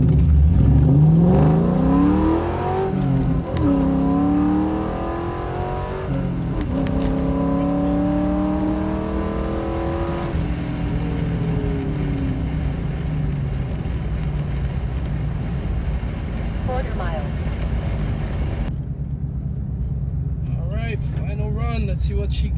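A 2001 Ford Mustang GT with full bolt-ons accelerates hard on a quarter-mile run, its engine revving upward through rising sweeps and gear changes, loud and close, then fading as the run ends, with someone talking over it.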